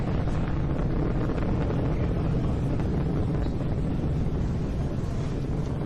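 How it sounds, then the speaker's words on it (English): SpaceX Falcon 9 rocket climbing through the atmosphere on a Starlink launch: a steady, loud, wind-like broadband roar, dense in the low end, holding constant with no breaks. "You are watching the Falcon 9 as it ascends through the Falcon atmosphere"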